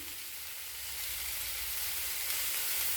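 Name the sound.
frying and stirring coconut, cashews and garlic paste for dal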